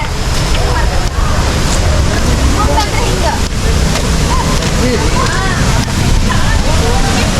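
Honnammanahalla waterfall in heavy rain with swollen flow, water rushing and sloshing loudly and continuously close by, while someone talks over it.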